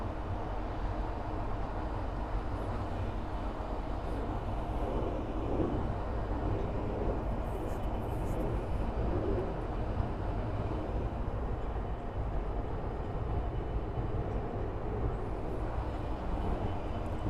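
A Boliviana de Aviación Airbus A330-200 taxis at Miami airport, a continuous, fairly loud low rumbling jet drone that holds steady throughout with no talking.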